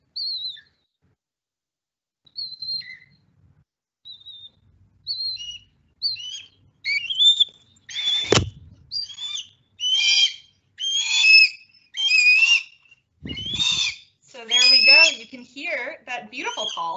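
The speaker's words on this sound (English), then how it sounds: "We can hear him whistling and thinking." A pet bird calling for food gives a series of short, bright whistles and chirps, sparse at first, then quicker and louder, close by in a quiet room.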